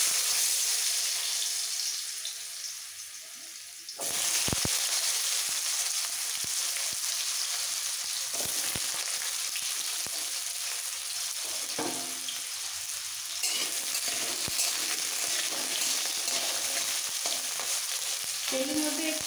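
Potatoes dropped into hot mustard oil in a kadai hiss loudly, then settle into a steady, close crackling sizzle with occasional scrapes and stirring knocks and no talking.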